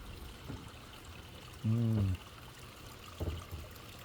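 Water trickles steadily beneath the sunrise bridge at Garvan Gardens in Hot Springs, Arkansas, a soft, low running flow with a few brief voices over it.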